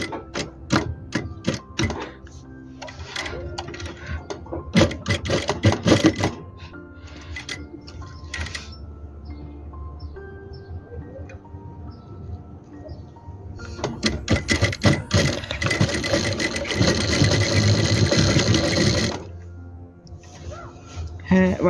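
A sewing machine stitches folded-in piping on a jalabiya, with short rattling runs early on and a longer, louder stretch of steady stitching later, while a voice talks over parts of it.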